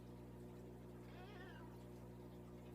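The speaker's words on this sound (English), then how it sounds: "Now that was a new meow" A pet cat at home gives a single drawn-out, wavering meow in the middle, faint against a steady humming background.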